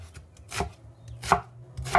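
Knife chopping through an onion on a cutting board, three distinct cuts spaced about half a second apart with a faint low hum beneath, close and fairly crisp, no talking.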